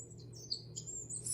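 Wild birds chirp near a forest, with faint high tweets scattered across the moment and a louder call near the start and end, over a low steady background hum.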